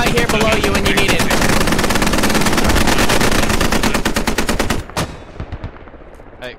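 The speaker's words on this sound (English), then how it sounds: "I'm hitting it with MG fire plus mortars." Machine gun fire and mortars in the military shooter game Squad: a dense, loud, continuous rattle of rapid automatic fire that breaks into a few separate bursts and thumps before fading.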